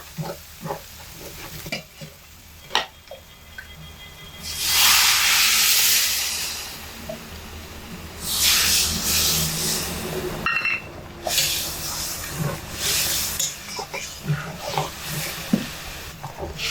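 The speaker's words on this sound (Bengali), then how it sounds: "এবার এর মধ্যে গরম জল আমি দিয়ে দিচ্ছি" Hot water poured into fried masala for an egg curry erupts into a loud hissing sizzle, then settles into bubbling and stirring, with scattered utensil knocks before and after.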